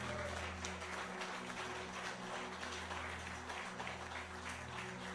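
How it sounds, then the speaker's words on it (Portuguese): Churchgoers at an evening worship service applaud, a quiet, dense crackle of clapping heard from a distance over a low sustained hum of music or room tone. "Você pode aplaudir a Deus nessa noite?"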